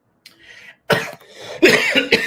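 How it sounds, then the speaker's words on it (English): A few sharp coughs close to the mic, coming in separate bursts with short pauses between them, after a faint softer sound at the start. "And sorry for the coughing."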